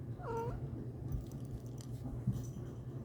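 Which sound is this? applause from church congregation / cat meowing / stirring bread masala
cat meowing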